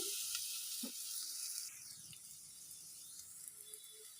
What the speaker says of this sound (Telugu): తాలింపు అంతా స్లిమ్లోనే వేపండి, బాగుంటుంది, మాడిపోకుండా ఉంటుంది